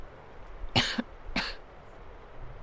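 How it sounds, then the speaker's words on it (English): A short, close cough in two separate dry bursts against a quiet background. "I don't like the sound of that cough."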